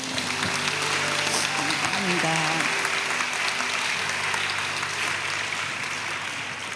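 Big round of applause from a church congregation at a women's worship service, dense steady clapping that fills the room, with a few voices and a speaker heard faintly over it.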